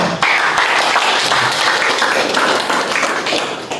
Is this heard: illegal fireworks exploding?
no